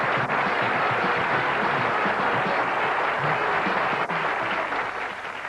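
Audience applause for a quiz winner at a Hindi music show, a steady, dense clapping that fills the whole stretch at even loudness, with no talk over it.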